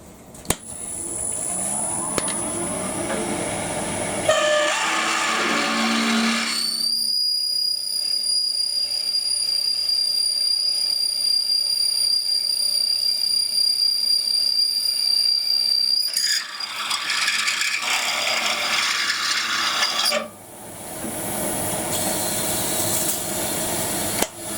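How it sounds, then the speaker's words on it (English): A metal lathe drills into aluminium stock held in a Jacob's chuck, giving a steady, loud mechanical whine with a high tonal squeal through the middle of the cut, while rougher machining and handling noise comes before and after. "I'm also going to hold the Jacob's chuck when I'm drilling."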